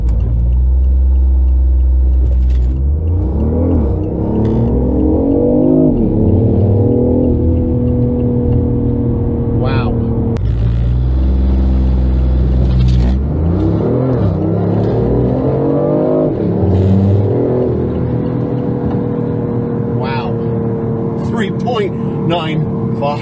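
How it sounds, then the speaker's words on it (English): Tuned BMW i8 in sport mode accelerating hard from a standstill, a loud engine whose pitch sweeps up through gears twice in succession, with rising tones and shifts, and a voice speaking over it. "I'm gonna go ahead and do my 0 to 60 test."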